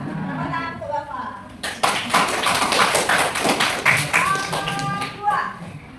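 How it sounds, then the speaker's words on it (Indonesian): A sixth-grade maths class breaks into a dense burst of clapping for their teacher, close and loud, running for several seconds after a brief voice, with children's voices mixed in. "Nah, tepuk tangan untuk Bapak."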